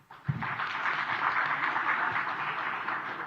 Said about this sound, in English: A round of applause for the panel